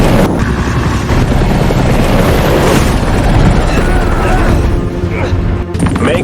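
Two military helicopters flying dangerously close in a Russian war film battle scene, a loud, continuous rotor roar with booming blasts and gunfire mixed in throughout.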